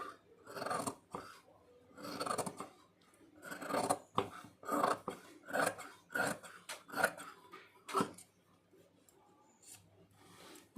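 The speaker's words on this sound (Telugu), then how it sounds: "అది వేస్ట్ని కటింగ్ చేస్తున్నాను." Waste piping is cut by hand with short, close snipping and rasping strokes in quick irregular bursts at low volume, broken by brief pauses.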